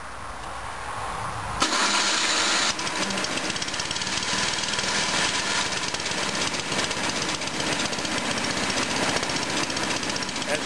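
An electric-start snowthrower, already warmed up, cranks and fires, then settles into a loud, steady, rough engine run close by that continues without a break.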